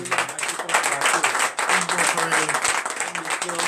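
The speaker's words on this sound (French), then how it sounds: "pourquoi ne pas donner encore plus d'acclamation à notre Seigneur?" Congregation at a morning prayer service in Comè, Benin, clapping and calling out in acclamation, with voices raised over a busy layer of hand claps throughout.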